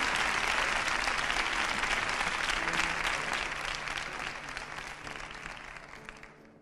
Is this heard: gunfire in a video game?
no